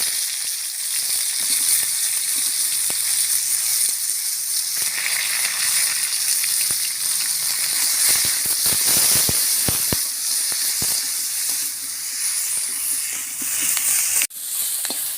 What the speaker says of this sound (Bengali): এবার আমি কাঁচকলাগুলো এতে দিয়ে ভালো করে ভেজে নেব।